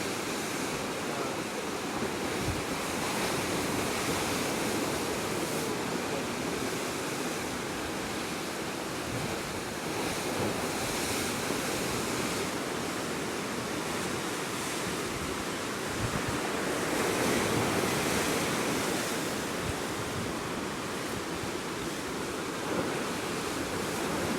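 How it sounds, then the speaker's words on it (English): Steady roar of ocean surf in Hawaii with broad, washing swells rising and falling, mixed with some wind, no voices. "listen to those waves"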